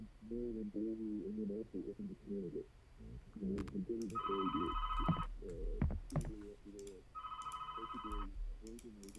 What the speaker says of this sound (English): Can I just not answer the phone?